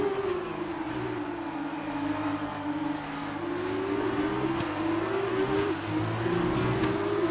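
F2 single-seater engine from the F1 2019 racing game, droning loudly and steadily with rising and falling pitch as it revs through gear changes, continuous and close throughout with no talk.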